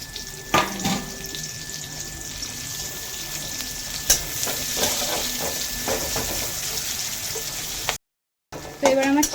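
Sliced onions hit hot oil in a kadai, giving a steady, loud sizzle with sharp spatters and clatters near the start and around the middle, then a brief silent gap and renewed crackling at the end.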